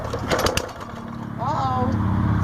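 A lawn mower engine is pull-started, its cord yanked in quick rough bursts before the motor catches into a steady low hum, with a voice talking over it.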